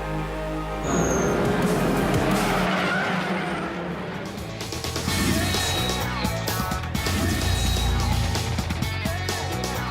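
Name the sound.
Volkswagen Polo Cup race cars skidding at a race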